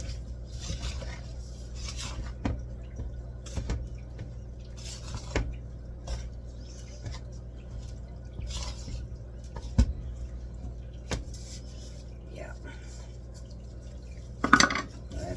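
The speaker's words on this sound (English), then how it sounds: "Stir it the best I can with the spoon first." A spoon working through thick Butterfinger chocolate chip cookie dough in a bowl, faint soft scrapes and occasional light clinks against the dish at an irregular pace, quiet and close with no talking.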